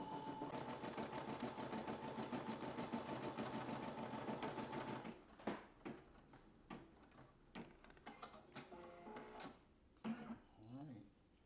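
An embroidery machine stitches a custom patch with a rapid, steady mechanical chatter for about five seconds, then stops, leaving scattered clicks, handling knocks and a faint voice.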